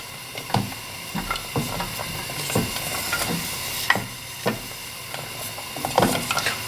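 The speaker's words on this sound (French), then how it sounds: "Donc touillez régulièrement pour pas que ça accroche au fond." Chocolate melting in a pan for chocolate mousse is stirred with a utensil, giving a rhythmic series of close scraping strokes and soft knocks over a faint steady hiss.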